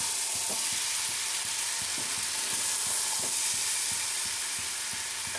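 Chopped ivy gourd and chana dal sizzle steadily in a pan while a spoon stirs them, giving a constant loud frying hiss with soft regular scraping knocks underneath.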